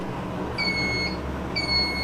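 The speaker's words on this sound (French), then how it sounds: "l'appareil a bipé." A sous vide cooker signals the end of cooking vegetables with two high electronic beeps over a low steady background hum.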